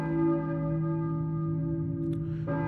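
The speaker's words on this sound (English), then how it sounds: "I hear a church bell maybe." A church bell tolling in the Silent Hill video game trade demo, one long resonant ring that sustains and decays evenly, with a faint second strike near the end.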